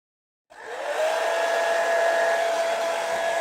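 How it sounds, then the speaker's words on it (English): A handheld hair dryer switches on after a half-second of silence and runs steadily at close range, a loud whooshing airflow with a constant motor whine, no talking over it. "What I'm going to do is get the hairdryer out."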